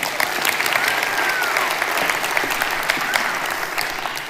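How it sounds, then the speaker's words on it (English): A TED talk audience gives a round of applause, a steady, dense wash of clapping from a large crowd that stays loud throughout and fades slightly toward the end. "Give her a round of applause."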